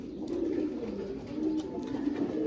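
Pigeons cooing in a loft or colony, soft repeated low coos overlapping one another at moderate distance, with faint chirps and rustling behind.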